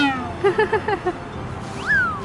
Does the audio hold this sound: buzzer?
no